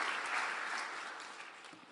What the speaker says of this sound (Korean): 한 번 더 수고와 격려의 박수 한번 부탁드리겠습니다.